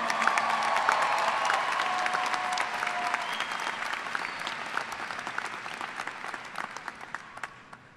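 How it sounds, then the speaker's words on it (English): Audience applause fills a university commencement ceremony at the University of Bridgeport, a dense, steady clapping from a large crowd that slowly tapers toward the end, with no voices over it. "Give yourself another big round of applause."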